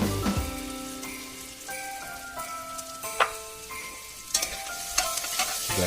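Garlic, salt and pepper sizzle in a hot pan with a steady, close crackle, broken by a few sharper pops and stirring scrapes, with no talking.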